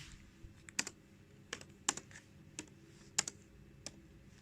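Typing on a computer keyboard while entering Java code in NetBeans, a quiet run of separate key clicks at an irregular pace, a few struck louder than the rest, with a low steady hum beneath and no voices.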